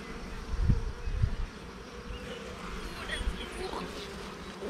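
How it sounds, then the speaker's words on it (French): Honeybees buzz around a hive frame during a spring inspection, a soft steady hum close by with a few low thumps and handling noises, under occasional quiet murmuring. "Il pousse sa petite abeille."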